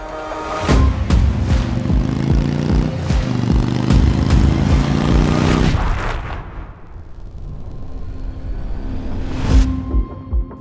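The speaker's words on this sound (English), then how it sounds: "you just twist the throttle and this thing will rev to the moon" PowerPlus 112 V-twin motorcycle engine revving hard, loud and close, with sharp throttle blips and popping bursts over a deep rumbling idle that settles lower before another rev.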